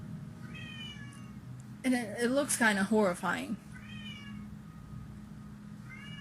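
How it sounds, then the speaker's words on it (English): A pet cat meows loudly and close up, a quick run of three or four drawn-out, wavering cries, with a person talking quietly before and after. "I'm sorry, that's my cat."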